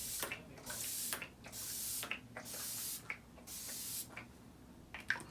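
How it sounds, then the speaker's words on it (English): A Pacifica Coconut Essence Hydro Mist facial spray gives about six quick hissing spritzes in an even rhythm, each with a faint pump click. The sound is close and fairly quiet. "So this one is the Pacifica Coconut Essence Hydro Mist."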